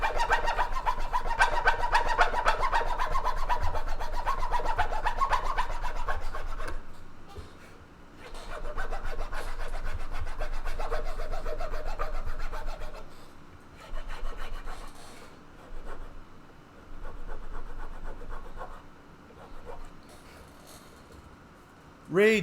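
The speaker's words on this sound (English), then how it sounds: "That's the sound of a guitar being made." Wood is rasped and sanded in a guitar-building workshop, with long stretches of steady scraping strokes that pause and resume in irregular bursts, close and fairly loud.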